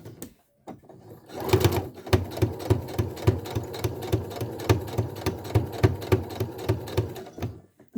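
A sewing machine stitching a boxy zipper bag, running in a steady rapid mechanical chatter with a short start-up at first and a brief pause near the end, close and alone.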